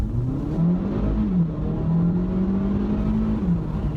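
A 2017 Kia Soul Turbo accelerates with its dual-clutch gearbox shifted manually, the engine hum rising, dipping at each shift and climbing again, steady and fairly close inside the cabin.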